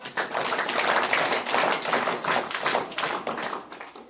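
A school audience claps to welcome a guest at an Independence Day celebration at a village primary school in South Odisha, a dense, continuous burst of many hands clapping close by that runs for several seconds before tapering off, with no talk.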